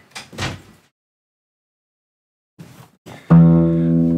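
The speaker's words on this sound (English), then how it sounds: "I'm going to just go slap this door for a couple seconds" An open hand slaps a door a few times in two short bursts of dull thuds, followed by a loud, steady ringing tone that sustains to the end.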